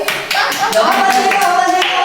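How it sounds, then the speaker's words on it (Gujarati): An audience claps at a Gujarati stage comedy show, giving a quick burst of dense, close applause with mixed voices underneath. "તાળી પાડો, મારા તાળી."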